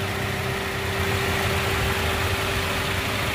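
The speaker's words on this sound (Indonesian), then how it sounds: "Terus mesin-mesin suaranya seperti ini ya, halus ya." A 2014 Toyota Rush TRD manual engine idles smoothly and steadily nearby, a constant low hum with a faint tonal whine and no voices.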